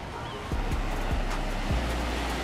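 Ocean surf washing onto the shore at sunset, a steady broad rush of breaking waves with wind across the microphone and a few low thumps.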